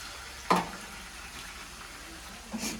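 Ginger garlic paste drops into a pan of frying onions for chicken biryani, setting off a soft, continuous sizzle with a sharp splat as it lands and another stir-like burst near the end.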